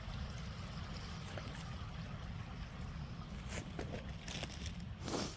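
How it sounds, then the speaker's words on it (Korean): Stream water trickling between ice in a snowy mountain valley, a soft steady burble throughout with a few small splashes near the end and no talking. "얼음 사이로 졸졸 흐르네요."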